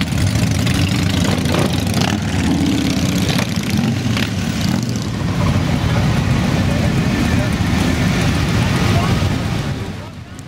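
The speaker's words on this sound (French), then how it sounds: "il doit y avoir au moins 400 motos et motards habillés en Père Noël aujourd'hui" A dense crowd of around 400 motorcycles ridden by Santa-costumed bikers in Montpellier, engines idling and revving together in a loud, continuous rumble close by.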